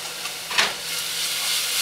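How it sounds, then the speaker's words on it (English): Onions sauteing in a pot give off a steady low sizzle and hiss, close and fairly quiet, with one brief brighter burst of steam or stirring about a third of the way in. "I'm gonna saute it real nice."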